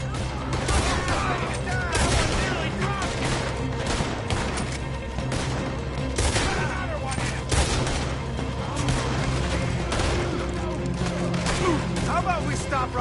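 Dense, overlapping volleys of gunfire in a Red Dead Redemption 2 shootout during a robbery, cracking steadily and close for the whole stretch, with shouting voices mixed in.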